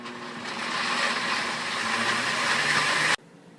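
A blender whirs steadily through a bean burger mixture, a loud grinding motor drone for about three seconds before cutting off abruptly.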